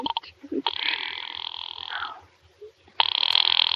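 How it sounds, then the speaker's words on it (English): An old-fashioned telephone rings in a police-station scene of a vintage suspense radio drama, with a long ring, a pause, then another ring starting, sounding close and loud with no talk. "Ringing the police department."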